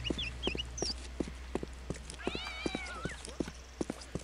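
A cat meows in the video game Postal 2, a few short rising mews over regular clip-clop-like footstep thuds and faint game background noise.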